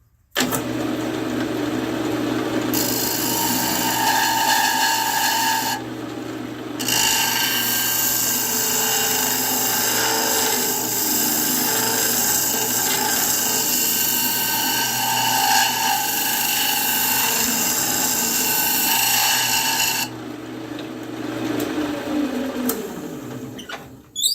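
A wood lathe whirs in a steady, close drone with a high whine as the tool flattens segmented cherry wood. The hissing cut drops out briefly twice.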